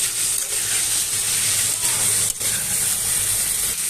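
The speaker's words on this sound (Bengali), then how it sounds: "ভেজে রাখা আলুগুলো দিয়ে ভালো করে কষিয়ে নিচ্ছি।" Diced potato cubes that were fried earlier sizzle steadily while being sautéed with a spice masala in a pan, a continuous close hiss broken by brief stirring scrapes, with no talking.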